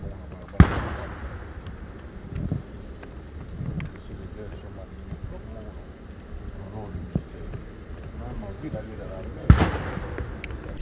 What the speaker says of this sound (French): a été saluée par 21 coups de canon et une parade d'honneur